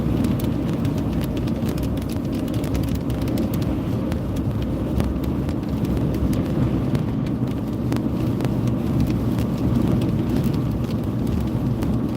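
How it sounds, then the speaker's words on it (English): Heavy, blinding rain pours during a storm chase in northeast Kansas, a dense continuous hiss and drumming that stays loud and steady throughout, with no voices. "It's just unbelievable heavy precipitation, blinding rain."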